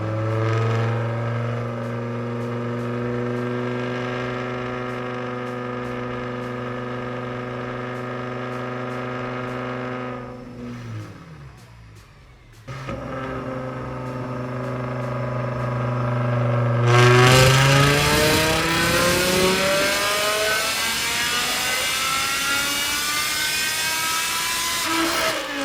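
A tuned BMW E60 M5 engine winds up through a dyno pull, a loud sustained rising drone that dips briefly after a gearchange, then climbs again into a harsh, roaring high-rpm scream.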